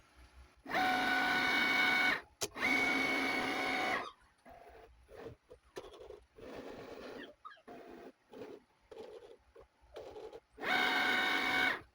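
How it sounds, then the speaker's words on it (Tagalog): An electronic cutting machine loads a cutting mat and its sensor reads registration marks, with two sustained motor whirs, a run of short stepping buzzes, and then a final whir, close and moderately quiet. "Once na mag-load, mag-blink din yung cut na button and mag-read na ng registration mark yung sensor."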